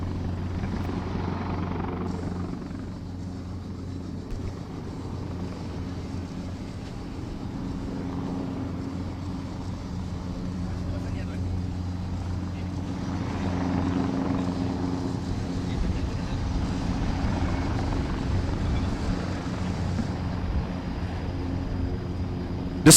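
EC-725 helicopter hovering over a military fire power training area during a fast-roping insertion, its rotor and engine noise a steady, loud, unbroken drone for the whole stretch, with no voices over it.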